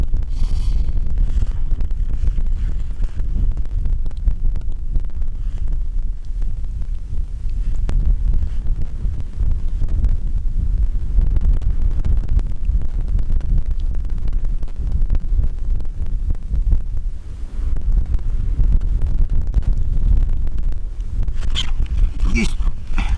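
Strong outdoor wind buffeting a microphone at a riverside fishing spot, a loud, continuous low roar with gusty rumbling throughout and no speech.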